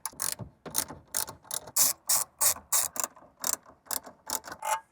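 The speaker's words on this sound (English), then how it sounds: "grab a ratchet and socket and just go ahead and start removing them" A ratchet and socket remove bolts from beneath the radio of a Toyota GR Corolla, a rapid series of close, sharp clicking ratchet strokes in quick bursts with brief gaps.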